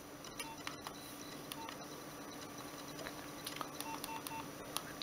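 Keypad buttons pressed on a Nokia 1202 mobile phone produce short clicks and beeps in an irregular series, close and fairly quiet, over a steady hum, with no talking.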